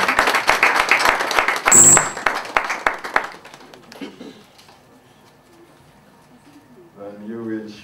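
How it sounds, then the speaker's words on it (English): Audience clapping at a launch event for ISO 9001:2008 certification software, a burst of loud, dense applause in the first three seconds that quickly thins out and fades, followed by quiet room tone and a brief voice near the end. "a round of applause, please."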